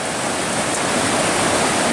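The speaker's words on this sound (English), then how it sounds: "this river crossing is just too raging" A raging river rushes loud and steady at a trail crossing on the Shale Ridge Trail, its broadband roar of churning whitewater filling the whole stretch up close with no break.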